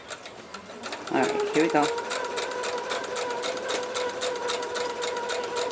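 A sewing machine stitching Lone Star quilt pieces starts up after a brief spoken remark and settles into a steady, close, humming whir that continues evenly to the end.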